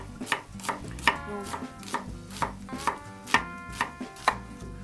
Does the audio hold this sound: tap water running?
no